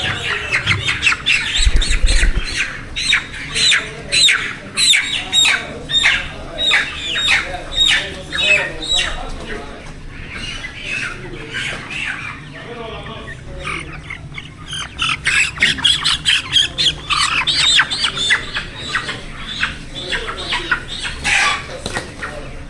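Chickens at a poultry shop squawk and cluck continuously in a dense, close chorus, with occasional wing flaps and sharp calls rising over the crowded, steady din.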